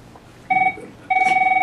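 A twinned desk phone and cell phone ring together, giving two electronic ring bursts separated by a short pause, clear and close with no talking.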